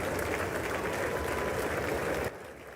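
Sustained applause from the televised State of the Union audience, a steady wash of clapping heard at a distance through a broadcast, cutting off abruptly near the end.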